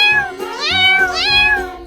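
Kittens meow in a run of high, drawn-out cries, three or four rising and falling calls close by and fairly loud, with a faint low background hum and no talk.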